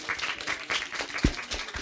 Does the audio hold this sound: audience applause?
yes